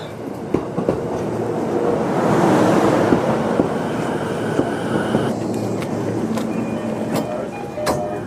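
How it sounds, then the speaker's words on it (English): An Ome Line train arrives at Kori Station in Tokyo, a broad steady rumble that swells and then eases, with faint rail clicks and squeaks over roughly eight seconds. "here is our train, the Ome Line, heading towards Ome Station"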